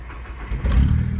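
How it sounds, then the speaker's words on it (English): A VW Jetta MKIV car engine cranks and catches, a brief low rumble that swells into a loud close running note. "Let's start the car."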